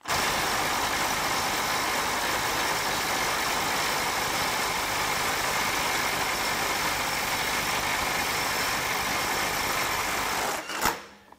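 Mid-torque impact wrench, a Milwaukee 2960 or Ryobi P262, hammering nonstop on a stuck bolt, a dense, even, loud rattle that holds for about ten seconds and then stops abruptly.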